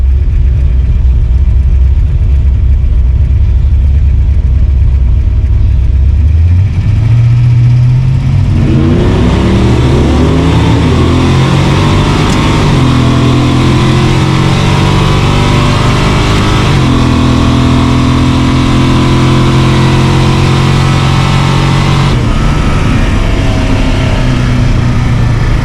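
An LS-swapped Chevrolet S10 racing on nitrous: a loud V8 engine idling low, then revving hard and pulling through rising gears with steady wide-open roar, heard close from inside the cab.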